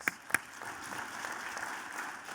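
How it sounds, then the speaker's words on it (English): Audience applause at a live business conversation event, a couple of sharp claps up front then a steady, fairly faint wash of clapping from the room. "A round of applause."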